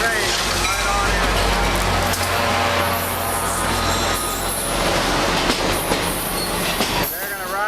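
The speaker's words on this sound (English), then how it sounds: "Here comes the train. Right on in." A train rolls into a station during a railroad festival in Brunswick, Maryland, its loud low rumble and wheel clatter filling the scene with faint squeals, while a crowd chatters in the background.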